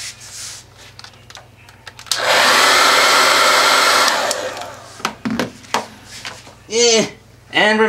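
A heat gun blasts hot air onto the hip socket of a molded figure for about two seconds, a loud steady rush standing alone, followed by scattered taps, handling noises and brief speech.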